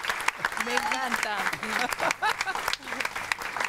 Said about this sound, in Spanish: Vamos a aplaudirla porque es mi bella